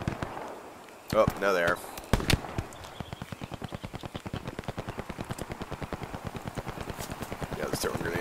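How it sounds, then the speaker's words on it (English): Grenade explosions in Hell Let Loose, two heavy blasts early on, followed by a long run of rapid rhythmic firing or clatter. Someone speaks briefly over it. "they're throwing grenades at me now."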